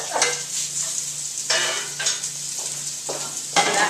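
Sausage sizzles and fries in a soup pot, a steady crackling hiss at moderate volume. Stirring scrapes swell it in brief bursts about every half second to second, with no talking.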